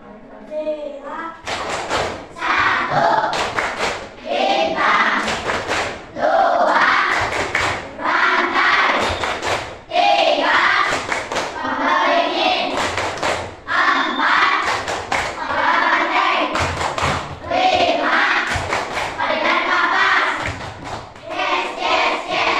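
A group of children claps in rhythm while chanting the Tepuk Pancasila routine together, with loud, close bursts of unison hand claps breaking up the chanted lines throughout.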